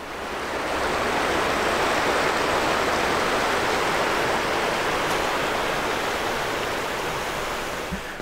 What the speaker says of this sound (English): Just following that river, bit of a stream